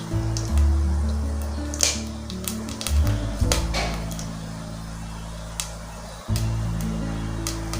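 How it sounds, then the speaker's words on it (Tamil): Pepper and cumin splutter and crackle in hot oil while tempering for ven pongal in a pressure cooker. A steady sizzle carries scattered sharp pops close by, with a few clanks of utensils. "மிளகு ஜீரகம் பார்த்திங்கன்னா நல்லா பொரிஞ்சு வரணும்"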